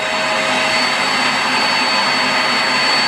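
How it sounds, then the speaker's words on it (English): A borrowed spot cleaner runs continuously in a small bedroom, a loud, steady motor roar and suction hiss with no breaks and no voices. "Beth has lent us her spot cleaner, which Glenn is going to work out how to use."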